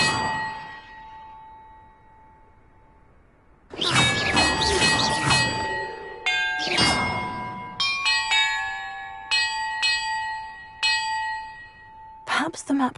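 Bells ring in a Harry Potter game puzzle, a series of loud metallic clangs and ringing tones that strike in bursts and overlap, each decaying over a quiet hum.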